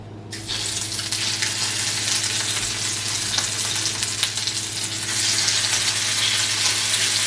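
Lobster gets a light sear in a hot pan for seafood mac and cheese, giving a loud, steady, close sizzle that swells a little toward the end, with no talk.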